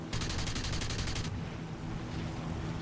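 Rapid cannon fire from a Messerschmitt Me 410 Hornisse heavy fighter's 20mm guns in a War Thunder simulator air battle: a fast, even burst of loud shots for over a second, then the steady drone of the engines alone.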